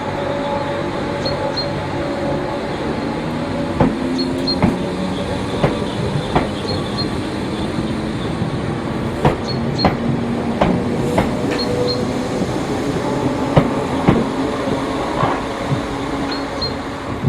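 A British Rail Class 313 third-rail electric multiple unit runs through Ford Station toward Littlehampton, with a steady rolling rumble and repeated clickety-clack wheel beats over rail joints, plus faint high squeals.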